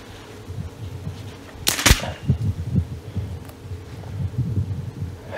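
An Artemis CP2 camo air pistol fires a single pellet, a sharp close crack standing out from low handling thumps and quiet background rumble.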